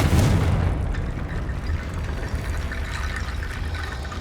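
Confringo blasting spell cast in Hogwarts Legacy, a heavy fiery boom that hits loud at the start and rolls into a sustained rumbling, crackling wash that slowly fades.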